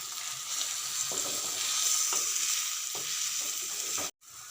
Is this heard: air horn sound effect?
no